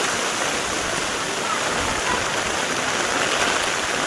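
Heavy rain pours steadily over a village, a dense, even roar of water with no breaks, loud and close throughout.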